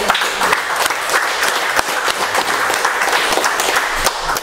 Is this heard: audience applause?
yes